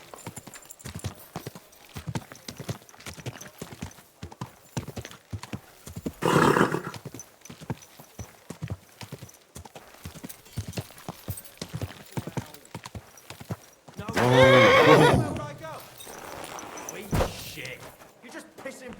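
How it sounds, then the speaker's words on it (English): Horse hooves clip-clop in a steady, close walking rhythm in the video game Kingdom Come: Deliverance II, broken by two loud neighing bursts, with someone speaking over parts of it. "Easy, good horse."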